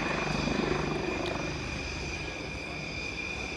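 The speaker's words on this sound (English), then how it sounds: "The light utility helicopter is now coming in front of us to showcase its tail rotor power" A light utility helicopter's steady engine and rotor drone hangs in the air at a flying display at Aero India 2019, fairly distant and even, with no voices over it.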